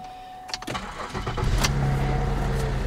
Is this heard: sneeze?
no